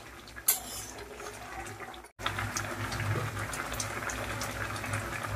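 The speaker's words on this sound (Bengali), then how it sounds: "টক বক করে ফুটছে।" Wood apple syrup for a sweet preserve boils in a pan on a gas stove, bubbling with a steady, close, wet simmer throughout, broken only by a brief quiet gap.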